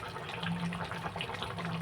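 Water is poured into a pan of chicken curry as it cooks, a soft steady gush and trickle heard faintly and continuously, with no talking.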